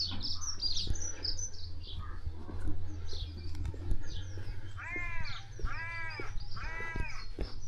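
Three loud, harsh crow caws repeat near the end in the village of Badger, Shropshire, over a low engine hum, with small birds chirping in the background.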